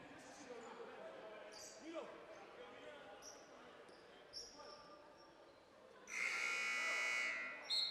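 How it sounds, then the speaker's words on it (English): A loud arena buzzer blares for nearly two seconds during an OCAA men's basketball consolation final, Niagara vs La Cite, after a stretch of soft ball bounces, sneaker squeaks and distant crowd murmur. "And we hear the buzzer to get the game going once again."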